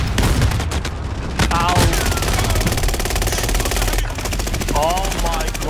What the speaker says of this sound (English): I'm taking fire! Frag out! I'm under fire!